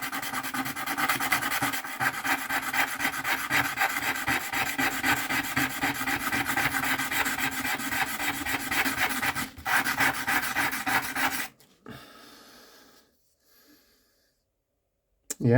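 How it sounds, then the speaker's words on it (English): Stone from the Yangshan Quarry being sanded by hand with sandpaper, a steady close rasping rub that runs continuously for about eleven seconds before stopping, followed by quiet handling noises. "Yeah, it's sanding the whole piece."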